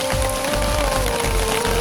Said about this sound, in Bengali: এই যে দেখুন প্রচুর বৃষ্টি হচ্ছে।